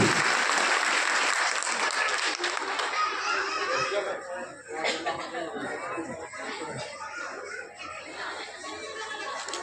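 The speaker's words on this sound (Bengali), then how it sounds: "আমাদের তরফ থেকে একটা জোরে করতালি" Loud, dense applause from a large audience at a regional science and technology congress, sustained through the clip with some chatter and laughter mixed in, easing slightly toward the end.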